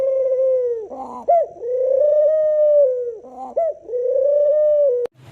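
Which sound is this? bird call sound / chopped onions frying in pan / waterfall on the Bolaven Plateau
bird call sound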